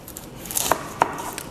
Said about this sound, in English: We'll start with chopping the onion